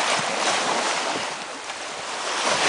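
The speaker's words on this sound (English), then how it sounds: "Get those waves." Ocean surf rolls steadily onto a beach, a continuous loud wash of breaking waves with some wind noise across the microphone and no talking.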